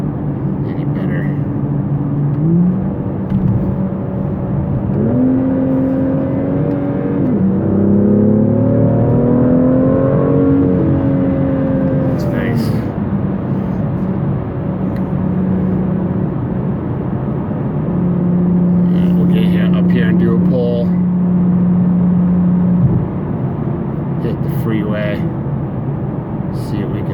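A BMW M2 fitted with a K&N air filter idles close by, then its engine revs upward in a few rising pulls before settling back to a steady, loud idle drone.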